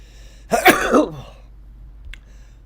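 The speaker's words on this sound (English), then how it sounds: "I'm about to sneeze." A single sneeze bursts out loudly, rising sharply then trailing off, followed by a brief faint click in an otherwise quiet room.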